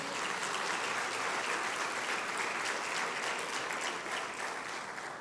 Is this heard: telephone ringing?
no